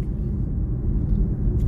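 Steady low engine and road rumble from inside a car being driven, a continuous dense drone with no talk over it.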